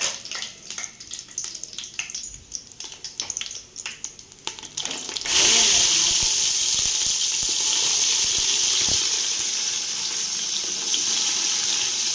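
Whole cinnamon, cloves and cardamom dropped into hot ghee for mutton biriyani: scattered clinks and light crackles first, then a loud, sudden, sustained hiss of frying that holds steady to the end.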